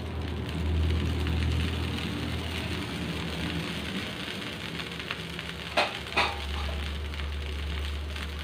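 Dibba rotti batter sizzling in oil in a pan on the stove, a soft, steady frying crackle throughout, broken near the end by a couple of short clanks from a utensil or lid.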